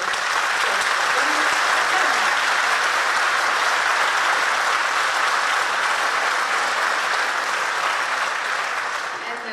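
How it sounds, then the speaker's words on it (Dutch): Sustained audience applause at a New Year's concert in Eelde-Paterswolde, a dense, steady wash of many hands clapping for nearly ten seconds, loud throughout and tapering slightly at the end. "Graag nog één applaus."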